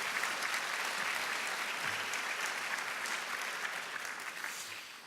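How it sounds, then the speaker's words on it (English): Audience applause at a Fels Institute commencement ceremony, a dense sustained clapping from a large crowd that fills the whole stretch and tapers slightly toward the end. "Give them a round of applause for what they're launching into today."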